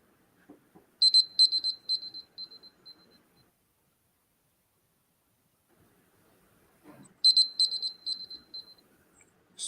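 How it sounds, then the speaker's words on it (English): A presentation-timing buzzer at a social entrepreneurship challenge panel sounds twice, each a sharp electronic burst of rapid pulses lasting about a second and then trailing off, separated by several seconds of near silence. "immediately after that, we'll sound buzzer."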